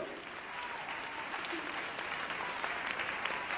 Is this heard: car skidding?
no